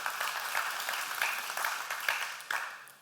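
Audience applause at a talk, a brief patter of clapping from a room of listeners, moderately quiet and fading out within a few seconds.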